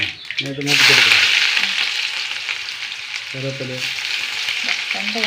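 Onion and curry leaves hit hot coconut oil with mustard seeds, bursting into a loud sizzle that settles into a steady crackling fry, with short bits of talk over it.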